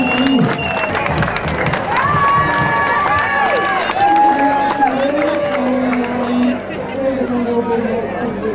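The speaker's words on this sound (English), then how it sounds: "Ladies and gentlemen, what a round of applause for the" An outdoor festival crowd cheers and claps after a round of applause is called for, with whoops and shouts over a lively, continuous roar of voices and scattered clapping.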